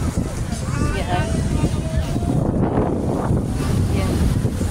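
Strong wind buffets the microphone with a constant low roar, surf washing faintly underneath, at Lobo beach in Batangas, Philippines.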